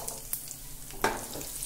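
Cumin, ginger and garlic cloves fry in a pan for a tomato-onion chutney, with a steady, close sizzle and a brief clatter as the spices are stirred in.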